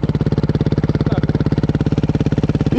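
A motorcycle engine pulses in a fast, regular thumping rhythm during wheelie practice, loud and close, with the throb steady from start to finish.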